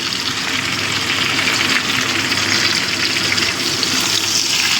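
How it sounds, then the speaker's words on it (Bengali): Loud, continuous sizzle and hiss of ridge gourd and other vegetables frying in a pan, dense and steady throughout, without any talking. "সবজিগুলো মোটামুটি ভাজা হয়ে গেছে, এবার আমি দিয়ে দিচ্ছি ঝিঙেটা।"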